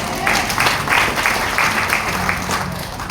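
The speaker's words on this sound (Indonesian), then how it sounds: "Tepuk tangan dulu." Applause from a congregation at a church service held in a mall, a few seconds of moderate clapping in bursts, with some voice mixed in.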